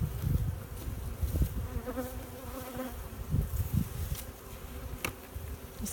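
Honeybees drone and hum around a hive, a close, dense buzzing that swells and fades as individual bees pass near.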